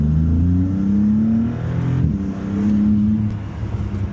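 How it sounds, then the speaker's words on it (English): A Maserati MC20's twin-turbo V6 revs hard in manual mode, its engine note climbing, dipping at a shift and climbing again, loud and close throughout. "I truly think that it's amazing that a V6, a twin turbo V6 can sound this good."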